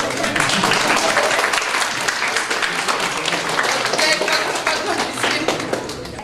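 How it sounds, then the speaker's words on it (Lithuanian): Applause from a youth council presentation audience, steady dense clapping filling the room throughout, with voices mixed underneath. "Ir plojimai."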